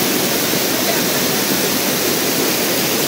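A waterfall on a trip to Malvan in the Konkan region, a loud, continuous rushing roar of falling water, close and steady with no pauses, with no voices over it.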